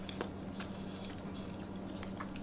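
Someone bites into and chews homemade flaky butter rolls up close and quietly, soft moist chewing and a few crisp bites over a low steady hum, with no talk.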